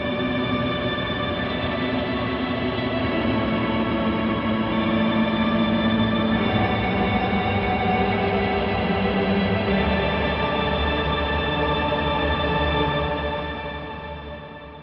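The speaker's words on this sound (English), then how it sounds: "This is the original one through the Lexicon Reverb." A sustained, wide guitar pad washed in lush Lexicon reverb, steady and loud throughout, with shimmering overtones and a slight swell before fading near the end.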